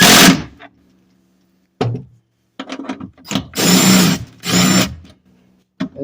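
Impact gun or power tool driving bolts on rusty Geo Metro/Suzuki Swift rear sway bar mount brackets, several short loud bursts of whirring and rattling hammering separated by quiet gaps.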